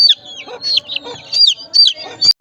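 Chickens cluck and squawk close by in a hot-weather coop where a hen with a badly injured leg is kept, giving several short, sharp calls in irregular bursts with brief pauses between them.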